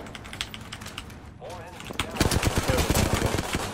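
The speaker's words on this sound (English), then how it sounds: "I'm getting shot though." Gunfire in Apex Legends, a rapid stream of crackling automatic shots that builds up in the second half, close and steady, with keyboard clatter mixed in and a voice talking underneath.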